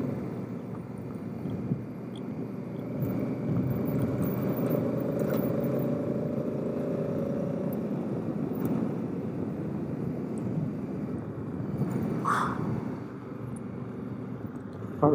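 A motorcycle engine drones steadily while riding up the rough Ophir Pass trail, with wind buffeting the microphone and occasional knocks over the continuous hum.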